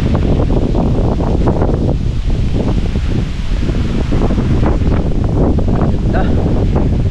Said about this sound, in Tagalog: Grabe oh, lakas ng hangin.